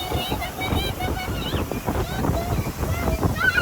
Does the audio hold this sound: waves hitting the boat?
yes